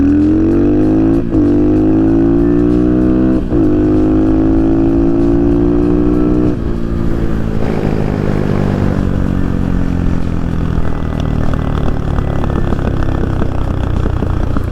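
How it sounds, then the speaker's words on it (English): A budget dirt bike's exhaust revs up loudly several times, then the throttle closes and the engine winds down with crackling pops on deceleration, close by and without talk. "I'll open the bike up so you can hear the exhaust a little bit. You got great pops on deceleration."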